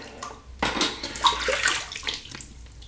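Tap water splashing and running over a double-edged safety razor being rinsed at a sink during a wet shave, a steady close splashing stream with small clinks, no talking.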